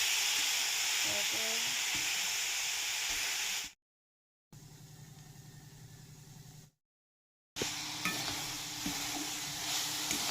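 Grated coconut frying with sugarcane jaggery in a pan, a continuous close sizzle with stirring scrapes, broken by two short silent gaps between segments.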